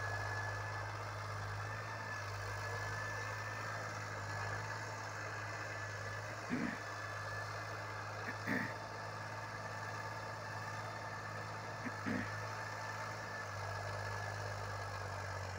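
A New Holland 3037 tractor of 39 HP works a field with a rotavator attached, its engine droning steadily and evenly at moderate loudness, with a few brief knocks scattered through the run.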